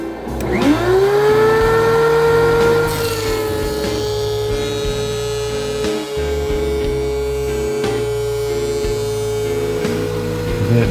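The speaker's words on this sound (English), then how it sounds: "set up my DeWalt planer and make sure I kick on the dust collector" A DeWalt thickness planer runs with a steady motor whine and rising pitch as it spins up, then bites into a board with a rough cutting roar, dust collector running alongside, loud and close throughout.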